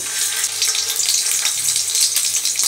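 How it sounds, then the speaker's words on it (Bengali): Chicken-stuffed pointed gourds fry in hot oil with a steady, bright crackling sizzle and faint clinks, no talking. "এইবার এক এক করে আমি পটলগুলোকে ভেজে নেব।"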